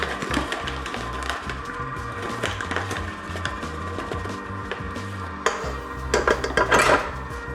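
A stand mixer bowl holding cake batter is raised and clicked into position, giving clattering metal and bowl knocks over a low motor rumble, with a louder cluster of clanks near the end.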